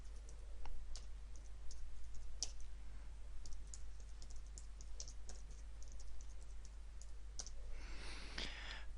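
Keys on a computer keyboard are typed while entering text into a spreadsheet, giving faint, irregular clicks and taps against quiet background hum.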